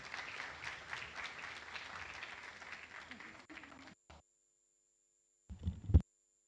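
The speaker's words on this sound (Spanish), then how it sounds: "Un fuerte aplauso para la licenciada." Applause for a speaker at a legislative academy event, a faint crowd clapping for about four seconds that then cuts to near silence, followed by a brief louder burst of noise.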